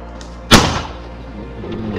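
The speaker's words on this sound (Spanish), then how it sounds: "Vale, chicos, preparados para explosión." A breaching charge bursts open a door during an airsoft game, one sudden loud blast with a broad crack that decays over about a second into room noise.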